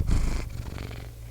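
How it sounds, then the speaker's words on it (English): A big, fat, spoiled pet cat purrs close by in a steady low rumble, loudest at the start and then settling into a softer, even drone. "Bernie is a big, fat, spoiled, happy cat."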